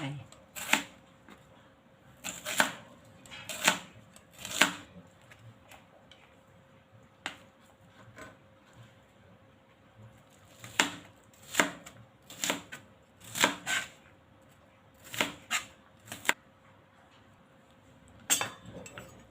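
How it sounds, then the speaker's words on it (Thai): Sharp knife chops slice an onion on a cutting board in quick irregular bursts, a steady series of crisp close taps with short pauses between runs. "จากนั้นก็ซอยหอมหัวใหญ่นะคะ"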